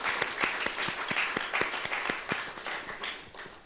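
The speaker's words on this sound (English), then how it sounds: "Give yourself a round of applause." A live audience at a Black theatre talk claps in a steady round of applause, with distinct individual claps standing out, moderately near and filling the whole stretch.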